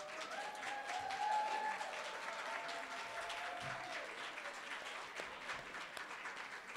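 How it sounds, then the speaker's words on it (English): Audience applause for Jerron Perry, a young jazz musician and senior at Detroit School of Arts, at a Founders' Day brunch: moderately distant, steady clapping with faint tonal sounds and crowd murmur beneath. "please join me in your applause for Jerron Perry"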